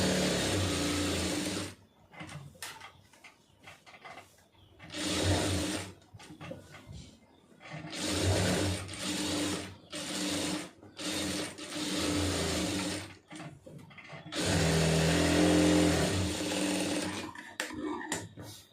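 Sewing machine stitching around the edge of fabric, its motor running in several bursts of a few seconds each with short pauses between, close and fairly loud, no voices.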